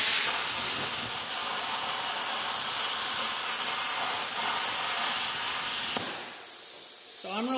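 A Bestarc CUT55XP plasma cutter cuts a hole in metal, giving a loud, steady, close hiss for about six seconds before it abruptly cuts off and the sound drops away.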